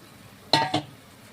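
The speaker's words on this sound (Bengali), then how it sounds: "মাছগুলো ঢেলে দিচ্ছি।" Pieces of fish tipped from a bowl into a pot of simmering cumin-paste gravy, giving two quick close clatters a moment apart, then quiet.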